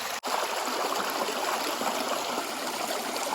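Strong, steady rush of water pouring from homemade water pads, a continuous broadband flow that stays loud and even throughout after a brief dip at the very start.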